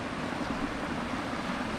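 Steady low drone of a boat motor running on water, continuous and fairly loud, with broadband wind and water wash over it and no speech.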